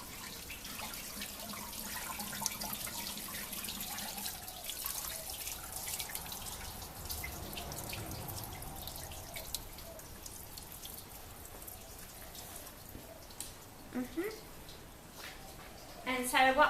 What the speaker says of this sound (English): duck over and turn the garden hose off now